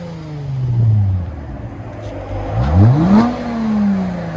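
A 2018 Lexus GS 350 with a 3.5-litre V6, dual exhaust and muffler delete revs twice up close, each rise swelling loud and then settling back toward idle, with no one talking.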